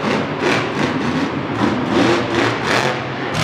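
A monster truck engine revving loudly in a stadium, heavy and rumbling, surging in repeated rhythmic pulses about every half second with no talk over it.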